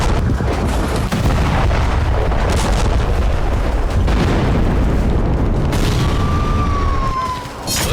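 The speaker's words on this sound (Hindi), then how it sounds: "गाजा में इन धमाकों की वजह है इजराइल के वो रोबोट जिन्हें बेखौफ होकर इमारतों तक भेजा जा रहा है।" Loud, repeated heavy blasts and rumbling booms from explosions in Gaza, a dense continuous barrage with a brief high whistle near the end.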